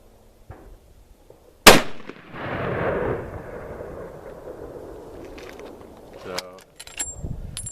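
A single loud rifle shot from a Remington 770 cracks out sharply and then rolls into a long echoing boom that fades over several seconds, with faint outdoor sounds and a brief voice near the end.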